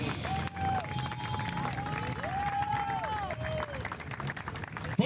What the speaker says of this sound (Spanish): Fuerte aplauso para todos ellos